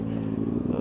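A Kawasaki ZX6R 636 sport motorcycle engine revs hard and steadily at about 6000 rpm, a loud, continuous droning roar with a dense harmonic buzz lasting under a second.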